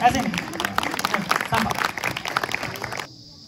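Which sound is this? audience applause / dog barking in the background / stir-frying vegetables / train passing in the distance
audience applause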